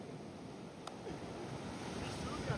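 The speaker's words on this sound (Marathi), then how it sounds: "किती मोठ्या मोठ्या लाटा येत आहे." Big ocean waves break on a beach in a steady, soft washing roar mixed with wind buffeting the microphone, the surf fairly distant and moderately quiet, with no talking.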